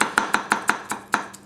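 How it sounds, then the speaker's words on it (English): Masakage Yuki 270 gyuto knife chopping food on a board: eight crisp, evenly spaced chops about every fifth of a second, close and clear with no talking. "effortless chopping, that is incredibly nice"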